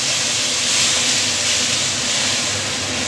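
Lentils (dal), already salted and mixed with turmeric, hit a hot pan and set off a loud, steady sizzle and hiss that stays constant throughout.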